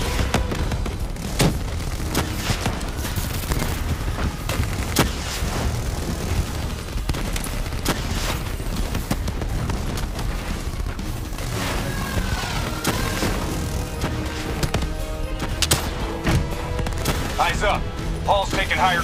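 Gunfire rattles through a battle in Call of Duty: Black Ops 3, with dense, continuous shots and booms layered over game music while voices call out, loud and busy throughout.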